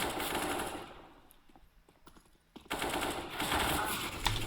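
Gunfire rings out in a video game esports match: loud rapid automatic bursts at the start, a quieter stretch broken by a few sharp single shots, then dense sustained firing again.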